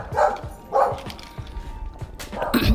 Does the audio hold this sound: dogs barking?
yes